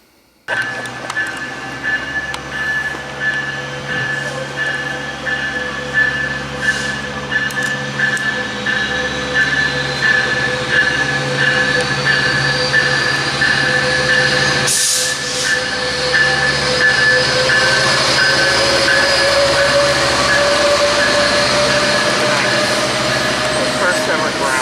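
Passenger train M664 from Los Angeles to Laguna Niguel rolls into the station at Fullerton, California: a steady loud rumble with hissing air brakes and a sustained horn tone, while someone talks nearby.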